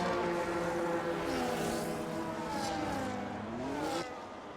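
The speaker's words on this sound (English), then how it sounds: "But right now we are entering the final lap with Squidge, Matty and Tess are running" Race car engines whine during the final lap of an Austrian Grand Prix in a racing video game, with several cars' pitches rising and falling and overlapping in a continuous, moderately distant drone.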